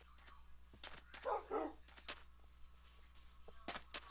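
Dogs barking in Minecraft, a few short yips and barks clustered near the middle, fairly quiet and mixed with other game sounds and faint talk.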